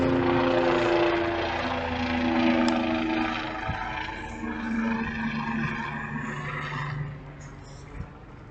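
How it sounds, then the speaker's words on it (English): A helicopter flies past with a steady, loud rotor and engine roar that slowly fades as it moves away. "Beautiful chopper."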